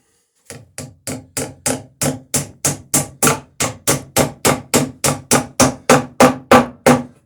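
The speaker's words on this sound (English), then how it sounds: "we got the second rivet going in here" Steady hammer blows drive a rivet while framing the stem and stern of an Alpha Dory boat, about twenty sharp, evenly spaced strikes ringing close and loud with no talk.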